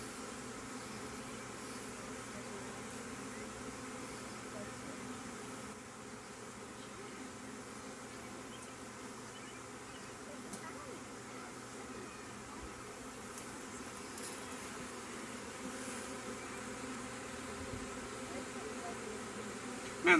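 A honey bee swarm being caught, giving a steady low buzzing drone that stays faint and even throughout, with no clear voices.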